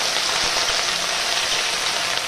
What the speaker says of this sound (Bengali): এবার কিন্তু এই আমি কেটে রাখা ঢ্যাঁড়সটা তেলের মধ্যে ছেড়ে দেবো।